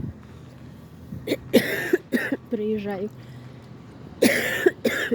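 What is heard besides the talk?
coughing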